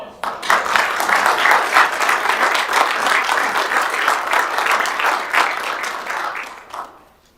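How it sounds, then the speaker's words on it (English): Steady, enthusiastic applause from the audience at a county board of commissioners meeting honoring a retiring staff member, continuous clapping for about six seconds before tapering off. "Another round of applause."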